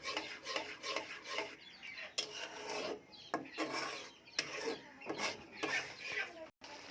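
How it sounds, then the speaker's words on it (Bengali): Chhana and milk mixture for halwa being stirred in a pan, rhythmic rasping scrapes of a spatula against the pan bottom in repeated strokes, close and fairly faint. "যাতে দলা পেকে না থাকে, একটু ভালোভাবে নাড়াচাড়া করে নেব।"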